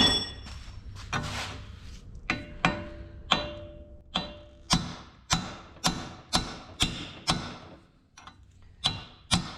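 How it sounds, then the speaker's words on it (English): A hammer strikes a punch to knock tack-welded arms off a coilover end cap for an '85 Pontiac 6000 wagon, giving a dozen or so sharp metallic clanks in a steady rhythm, close and distinct. "We're just going to get a hammer to punch, knock those 3 off."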